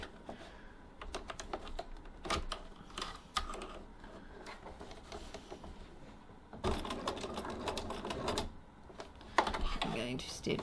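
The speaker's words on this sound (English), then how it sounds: "I'm going to stitch up the side like so." Close sewing machine stitching the side of an adjustable tote bag strap in short bursts of rapid mechanical clatter, with a louder run near the end and a voice speaking between stitches.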